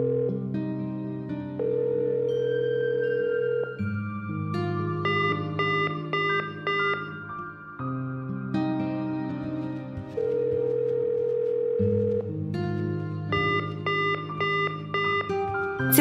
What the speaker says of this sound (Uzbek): Telefonni ko'tarmayaptimi?